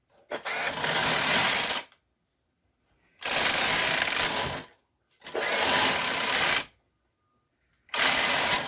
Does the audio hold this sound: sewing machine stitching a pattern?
yes